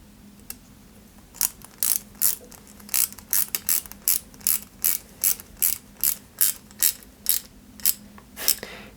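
Screws being driven into a 1/8 scale Citroën 2CV AZLP model kit, giving a steady run of about a dozen short, evenly spaced ratcheting clicks, close and fairly loud, with no talking.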